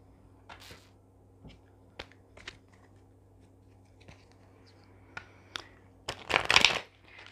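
Playing cards are handled and drawn for a reading, with scattered soft flicks and taps and then a short, dense riffle of shuffling near the end over a low steady hum.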